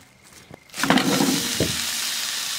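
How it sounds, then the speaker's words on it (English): A burger hitting a hot grill on a woodstove in a glamping tent bursts into a loud, sustained sizzle after a couple of soft knocks, close by with no talking. "I got one more burger to throw on."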